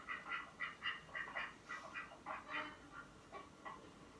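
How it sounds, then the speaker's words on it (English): A duck quacks in a steady series of about a dozen short, nasal calls with a bouncy rhythm, clear and close with nothing else heard. "An animal that makes that sort of noise. A duck."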